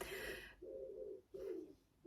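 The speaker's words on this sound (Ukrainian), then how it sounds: "Мій голуб." Soft, low cooing from a pigeon, three drawn-out coos separated by brief pauses, fairly quiet and close with little else around.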